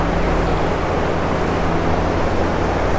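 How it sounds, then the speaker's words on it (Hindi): A submersible pump drives water through a shower delivery system in livestock housing during a heat wave, giving a steady, loud broadband rush and hiss with a low mechanical hum that runs unbroken throughout. "ये वही सबमर्सिबल पंप है जो नीचे पानी दे रहा है"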